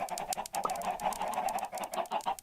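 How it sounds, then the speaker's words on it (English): Many chickens in a video game cluck and chatter at once in a busy, overlapping flock sound, fairly faint and continuous. "wow, that's a lot of chickens."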